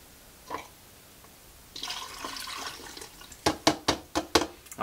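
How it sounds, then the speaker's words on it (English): Liquid film-developing chemical splashes into a developing tank for film processing, a soft watery rush followed by a run of sharp, rhythmic knocks and sloshes close by, with no talking. "All right, so we poured our chemical in."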